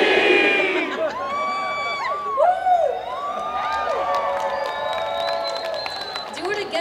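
Audience at a Comic Con panel (Stan Lee's LA Comic Con 2017) yelling together in one loud collective shout, then a sustained crowd roar of cheering voices that fades slowly across the hall.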